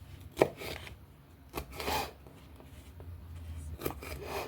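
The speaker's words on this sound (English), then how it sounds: "we're going to start by cutting up our green pepper" A knife slices a green pepper into strips on a cutting board, giving several crisp, irregularly spaced chops that land close and clear over quiet kitchen background.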